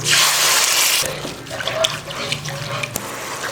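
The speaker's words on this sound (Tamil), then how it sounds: "இதில் சர்க்கரை சேர்த்துடலாம் இதில் ஒரு கப் தண்ணி" Water pours from a cup into a pan of sugar for boondi laddu syrup: a steady rushing splash for about a second, then softer trickles, drips and light clinks that fade.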